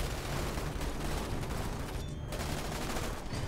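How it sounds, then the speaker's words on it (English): Heavy machine guns firing in Starship Troopers: Terran Command, a dense continuous rattle of gunfire with overlapping bursts and battle noise, loud and sustained without a break. "I love the sound of these heavy machine guns, though."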